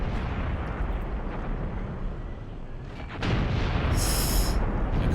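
Tank cannon fire during a large modern battle between South African and Angolan forces in a war video game: a steady wash of distant booming that swells noticeably louder partway through, with no talking.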